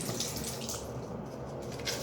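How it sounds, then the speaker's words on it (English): Water runs steadily from a tap onto a toothbrush at a sink, a close, continuous splashing hiss with no talk. "And I'll even add a little bit more water."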